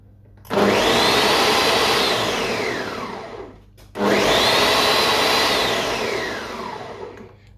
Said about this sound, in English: I'm just crushing using the crush features on my blender before I actually blend.